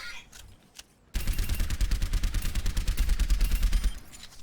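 Video game gunfire ripping out in fast automatic bursts, loud and close, starting abruptly after a quiet moment and rattling on steadily for a few seconds.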